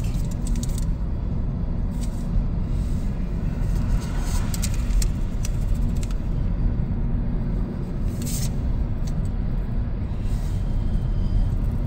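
Cars overtaking on a rural road in autumn: a steady, loud low rumble of road and engine noise with light rattles throughout, recorded from inside a slow-moving vehicle, with no talking.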